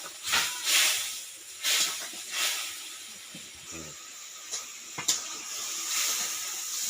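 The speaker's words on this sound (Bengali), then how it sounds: "অল্প একটু জল দিয়ে মশলাটাকে কষিয়ে নিচ্ছি" Mustard paste masala being fried in a pan with a splash of water while cooking tilapia curry, giving bursts of sharp sizzling hiss that swell and fade in uneven waves, close and fairly loud.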